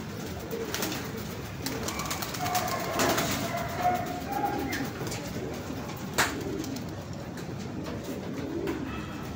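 Pigeons cooing and calling outdoors over steady background noise, with occasional flutters and wing flaps as the birds stir and take off, a sharp clap standing out partway through.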